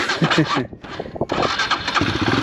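A Royal Enfield Himalayan 462 big bore motorcycle engine is started with a weak battery, cranking in loud bursts, briefly pausing, then catching and running, with someone talking over it close by.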